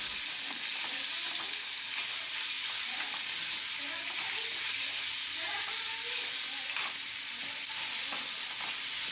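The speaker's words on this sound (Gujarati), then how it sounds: "તેલ મૂકી એમાં રાઈ હિંગ હળદર મીઠું નાખી અને આ સંભારો વઘારી લેવાનો છે" Mustard seeds, asafoetida, turmeric and salt hit hot oil to temper a vegetable salad, giving a steady, loud, crackling sizzle close up that runs without a break and has no talking.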